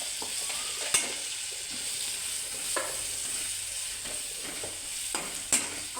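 A spoon stirs food in a frying pan after seasoning is added for flavour, giving soft, faint sizzling with a few sharp scrapes and clinks against the pan, with no talk over it.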